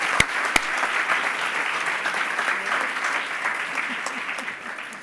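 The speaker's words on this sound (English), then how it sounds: "give a huge round of applause" Sustained applause from a graduation ceremony audience honoring the faculty at a Glion Master's ceremony, steady dense clapping throughout with two sharp louder claps near the start, no speech over it.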